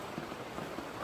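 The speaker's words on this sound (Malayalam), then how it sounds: "മഴ മാരക മഴ കേട്ടോ, മാരക മഴ." Heavy downpour roars as a dense, steady wash of rain pounding surfaces close by, loud and unbroken throughout, with no voices.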